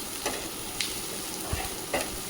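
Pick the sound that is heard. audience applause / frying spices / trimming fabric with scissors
frying spices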